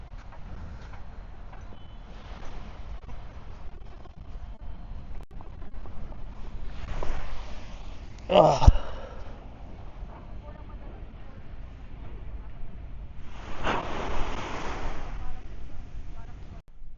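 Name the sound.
wind blowing at a Dubai beach resort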